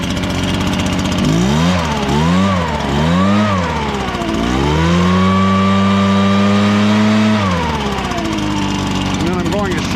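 Supercharged engine running after start and warming up, loud and close, revving in several rising and falling swells before holding a steady higher note and dropping back, with voices talking over it.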